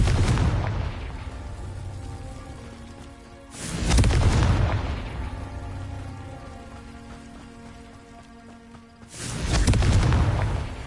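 A Confringo fire spell from Hogwarts Legacy bursts in two loud, booming explosions a few seconds apart, each a broad blast rolling into a long crackling rumble, with a steady hiss and faint music holding underneath between them.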